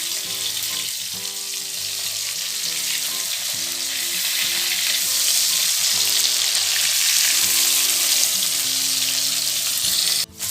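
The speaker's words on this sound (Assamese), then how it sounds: "এয়া দেউতাই মাছ ভাজি আছে" Fish frying in oil in a home kitchen pan, a loud continuous crackling sizzle that holds steady for about ten seconds before a brief break at the end, with no talking.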